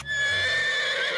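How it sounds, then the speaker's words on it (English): A horse whinnies in a children's animated space cartoon, one loud, sustained, wavering neigh lasting about a second, heard alone. "The big furry alien is called a horse."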